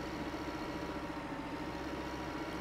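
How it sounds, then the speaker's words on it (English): Tractor engine in Farming Simulator 15, a steady low rumbling drone that holds at an even loudness and never lets up, with no speech. "So now what you do is you just take your tractor"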